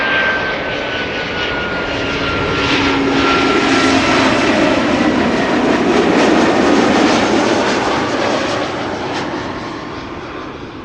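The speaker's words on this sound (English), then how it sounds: "Already coming in is an Embraer 190 Britty Hopper, having arrived from Bristol" An Embraer 190 airliner arriving from Bristol roars loudly and close, a broad sustained jet rumble with a faint whine that swells through the middle and slowly eases off, with no voices.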